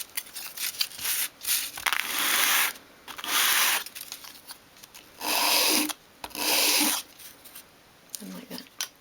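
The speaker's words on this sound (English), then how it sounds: "just sand each of the edges, and you just need to go across the sandpaper in one direction" Edges of a small wooden piece for a 1/12 scale dolls house work table are rubbed across sandpaper in one direction, giving several close, rasping strokes in separate bursts with short pauses between them.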